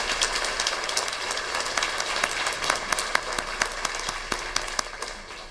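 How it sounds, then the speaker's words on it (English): Audience applause for veterans in a school auditorium during a Veterans Day assembly, a steady wash of clapping with sharper individual claps standing out toward the end, heard without talk. "Can we please give them a round of applause for veterans?"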